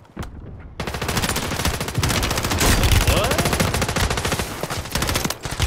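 Loud, sustained automatic gunfire from a video game firefight pounds away in rapid continuous bursts after a brief quiet start, dominating the mix with little else audible.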